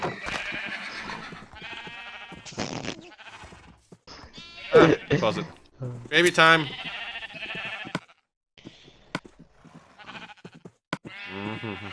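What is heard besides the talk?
black sheep bleating in the video game Minecraft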